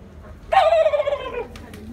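A voice mimics a male turkey's gobble: one loud, rapid warbling gobble lasting about a second, close and alone, with a couple of faint clicks after.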